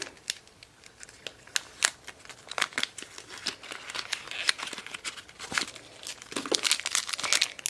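A crinkly plastic Shopkins mini blind pack, the blue bakery fresh container, is picked at and opened up close, giving rapid irregular crackles and crinkles in quick bursts, with no talking.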